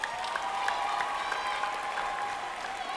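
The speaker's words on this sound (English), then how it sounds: "Now give yourself a huge round of applause." Graduates and guests at a high school commencement ceremony break into broad, sustained applause, a dense wash of clapping from a large crowd with a faint tonal hum underneath.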